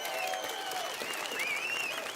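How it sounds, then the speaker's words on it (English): Crowd applause for Jimmy Richards on the Friday night of the 2012 Bathurst 1000, a steady moderate patter of clapping. Whistling and faint voices sit on top, and the sound stays fairly distant. "Give him a round of applause,"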